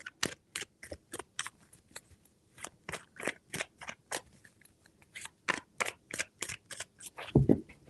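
Tarot cards are shuffled by hand in a run of quick, crisp riffling bursts, close and fairly quiet, with short pauses between shuffles and no talking.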